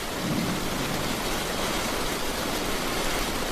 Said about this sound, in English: Torrential rain posed as their first hurdle after covering a little distance.